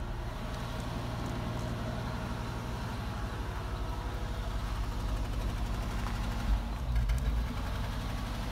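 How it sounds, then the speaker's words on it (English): A Mercedes 450SLC's engine idles steadily and slightly unevenly, recorded from close by and fairly quiet. A low thump and a small swell in volume come near the end, and no one speaks. "It idles a little weird, but once it warms up, it starts to idle normally."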